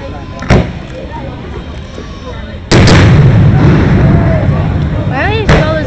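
Fireworks go off in Tulsa, Oklahoma on the Fourth of July during a mishap: a sharp bang, then a loud heavy blast followed by sustained rumbling roar and another crack, with people talking nearby.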